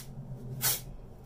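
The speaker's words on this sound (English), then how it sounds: "So you're gonna see me spray it all over" Volumizing hairspray misted onto hair in one short, close hissing burst about half a second long, over a low steady background hum.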